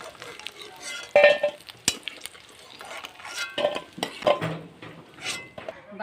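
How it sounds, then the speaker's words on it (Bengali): Chickpea dhoka cakes fry in a pan of oil for a vegetarian dhokar dalna, with soft sizzling under repeated clinks and scrapes of a utensil against the pan, close by. "বাকি যেগুলো আছে সেগুলো আমি ভেজে নিচ্ছি।"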